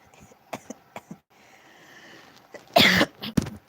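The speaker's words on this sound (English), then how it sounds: "I thought I'm done with this coughing" A person coughs several times in short bursts, with quieter throat noises before a loud, harsh cough cluster near the end, close to the microphone during a late-night live stream.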